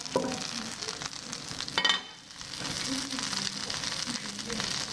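Butter melting and sizzling in a frying pan over medium heat while savory stuffed crepes are made, a steady close hiss and crackle running throughout with a brief stirring clatter partway through.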